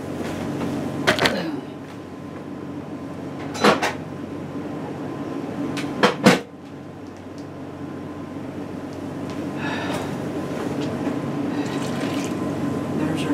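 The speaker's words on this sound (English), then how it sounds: "There's our cup of hot water." Hot water pours from a kettle into a measuring cup for a black magic chocolate cake, making a steady, close filling hiss with a few sharp clinks and knocks.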